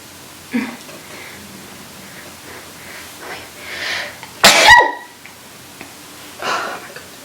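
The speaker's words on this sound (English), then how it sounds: "hold on, I'm gonna sneeze." A single sharp sneeze bursts out loudly mid-clip, preceded by a breathy inhale, with soft breathing and faint sounds around it.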